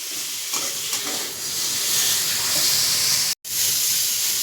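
Steady, loud sizzling of food frying in hot fat, a continuous bright hiss with occasional stirring, broken by one brief silent dropout.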